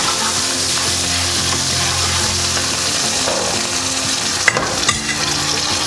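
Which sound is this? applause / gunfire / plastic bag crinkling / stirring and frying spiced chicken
stirring and frying spiced chicken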